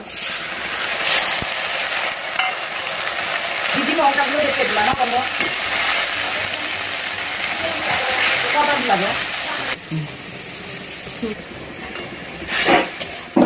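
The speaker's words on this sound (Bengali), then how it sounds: "এবার মশলাটা কষিয়ে নিই মুরগির মাংস" An onion and spice paste fries for chicken curry in a pan, giving a steady close sizzle with repeated scraping and stirring strokes and a few clinks near the end.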